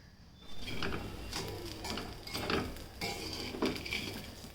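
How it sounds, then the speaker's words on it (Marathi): Roasted barnyard millet rice being stirred with peanuts and salt in a pot, a series of close metallic scrapes and clinks of a spoon against the pot in an uneven rhythm. "चांगलं मिक्स करून घ्यायचं"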